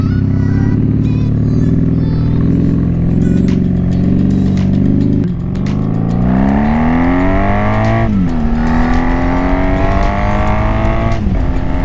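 A motorcycle fitted with forward controls runs loud and steady while riding, its engine note rising and falling through gear changes and throttle, a close, continuous drone with no talking.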